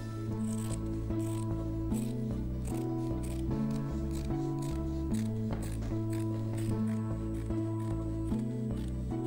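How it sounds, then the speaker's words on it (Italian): Quick snipping of scissors cutting upholstery fabric for reupholstering an armchair, repeated in a steady rhythm beneath louder background music. "con le forbici la ritaglio."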